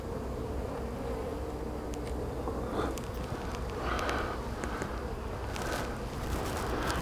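Honey bees buzzing around an open hive during an inspection while a queen castle is split, a steady close drone with individual bees whining louder as they pass near.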